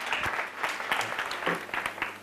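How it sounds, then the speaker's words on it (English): Brief scattered clapping from a small classroom group rewarding a student, a few seconds of uneven hand claps with a couple of louder claps standing out, fairly close. "Give Natalia a round of applause."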